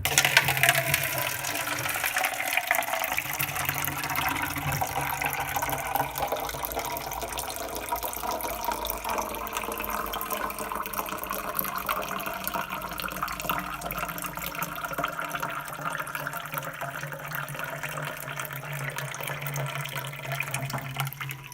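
Unfiltered public tap water runs from a faucet in a steady, even hiss and splash that continues unbroken throughout, with no other sounds standing out.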